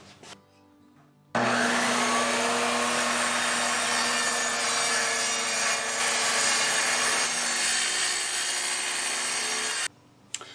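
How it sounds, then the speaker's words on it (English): A circular saw cutting out a small piece of wood for a tractor carrier mount: a loud, sustained, steady whine that starts suddenly about a second in, runs for several seconds and cuts off near the end. "just get the circular saw and I'm going to cut this little piece out"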